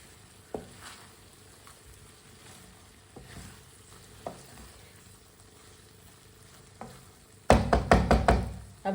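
A vegetable dish with chopped fresh coriander sizzling in a pan as it is stirred, with a quiet crackle punctuated by occasional spoon knocks and a louder burst of rapid scraping near the end, close and without speech.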